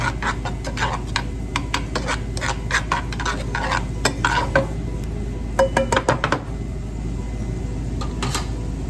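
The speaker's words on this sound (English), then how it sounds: "let's throw some garlic in there. Mix that about" Garlic is stirred in a pan for a simple alfredo sauce, a run of close, sharp metal-on-pan clinks and scrapes in irregular bursts over a steady fan-like hum.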